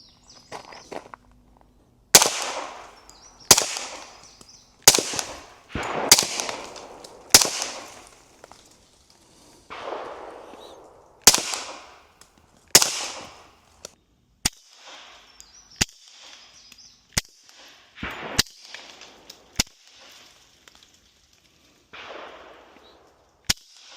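Suppressed .460 Rowland 290 grain rounds fired through a Dead Air Mojave 45 silencer make a series of sharp, loud, close reports, some in quick pairs, spread unevenly with short gaps and no talking.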